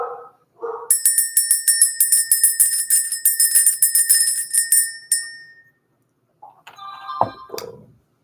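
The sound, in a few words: bell being rung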